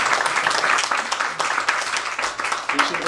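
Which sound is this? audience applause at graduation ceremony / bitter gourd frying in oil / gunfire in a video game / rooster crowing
audience applause at graduation ceremony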